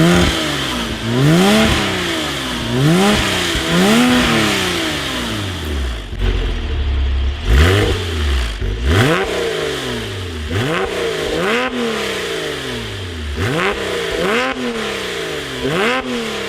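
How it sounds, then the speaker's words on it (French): Porsche 997 phase 1 Carrera S with a SCART valved exhaust, revving loudly in repeated rising and falling sweeps, with a brief lull in the middle before the revving resumes, heard close up. "Là on est dans une 997 phase 1 S, Carrera S, donc avec l'échappement SCAR à valve"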